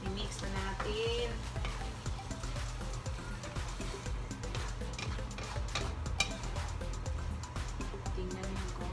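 Bitter melon with shrimp paste being stirred in a hot pan, a continuous frying sizzle with repeated spatula scrapes and ticks, close and steady throughout.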